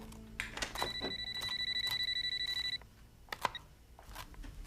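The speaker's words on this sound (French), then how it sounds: "Clara, répondez au téléphone." A telephone rings with a rapid, steady electronic trill that lasts about two seconds, close and clear indoors, then gives way to a quiet room with a few soft knocks.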